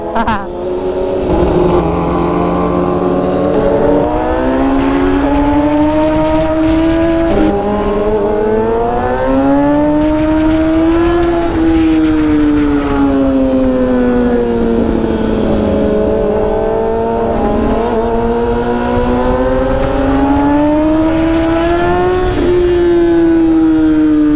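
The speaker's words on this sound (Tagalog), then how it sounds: "Nakakamiss yung tunog ng motor nito." A KTM big-bike motorcycle engine revs continuously, pitch rising and falling in long loud surges, close to the microphone throughout.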